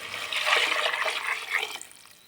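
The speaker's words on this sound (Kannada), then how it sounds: "ಮಿಕ್ಸ್ ಮಾಡಿ ಇದಕ್ಕೆ ಬಿಸಿ ನೀರು ಹಾಕೊಳ್ಳೋಣ." Hot water pours into a pot of vegetable donne biryani being cooked restaurant style, a steady rushing, splashing stream that runs strong for about two seconds and then tapers off, with no talk.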